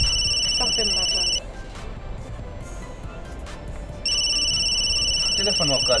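Telephone ring with a repeating electronic double-tone, loud and close, sounding twice with a gap between bursts while a voice talks faintly underneath.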